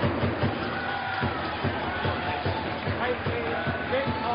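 Spectators at a Japan Open 2008 badminton semi-final keep up a steady drum beat, roughly two thumps per second, beneath a continuous murmur of crowd noise in a large indoor arena.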